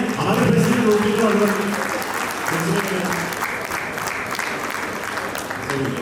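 A crowd at a Rotary district governor installation ceremony claps steadily and loudly throughout, a dense continuous wash of applause with some voices mixed in underneath.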